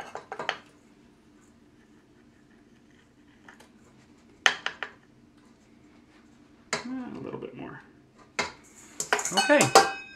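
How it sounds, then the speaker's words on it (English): Butter and sugar being mixed in a bowl for gluten-free Linzer cookie dough, heard as sparse, close clinks and knocks of a utensil against the bowl with quiet gaps between them, busier toward the end. "I'm gonna mix the butter up and the sugar, just like you would a regular cookie, until it's all combined"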